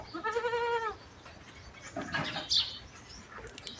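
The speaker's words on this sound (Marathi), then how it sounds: "आपली शिरोई जातीची शेळी खाली झालेली आहे" A Shiroi breed goat that has just kidded lets out one wavering bleat, followed by quieter shuffling and a short high chirp from a newborn kid.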